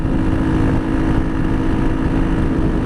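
A motorcycle cruising on a main road, a steady loud engine drone with continuous rumble and wind noise, close and unbroken.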